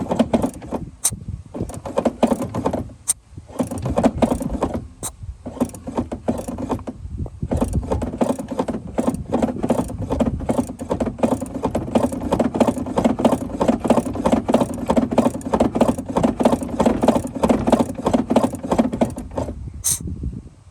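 Air puffs rhythmically from a cylinder of a 2.0T engine on its compression stroke during a leak-down test, a rapid series of close, loud bursts repeating for about twenty seconds with no talking.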